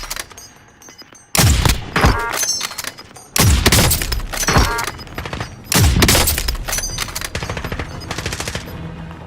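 Rapid bursts of automatic gunfire from Call of Duty Warzone pepper a window, with four loud, close volleys separated by brief lulls and sharp impact crackle trailing each burst.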